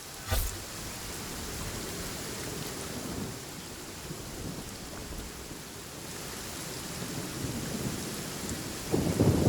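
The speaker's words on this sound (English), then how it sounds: "This heavy rain must be quite an inconvenience for you." Heavy rain pours steadily as a broad wash of noise inside the video game Genshin Impact, with a sharp thunder crack near the start and another rumble building at the end, no voices present.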